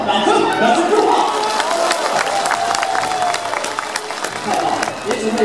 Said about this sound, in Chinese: 来，全场所有的朋友，掌声，掌声祝贺！